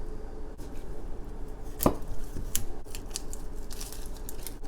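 Knife thinly slicing udon soup ingredients on a cutting board, a series of crisp, close cutting taps spread unevenly over a few seconds, with one sharper knock midway.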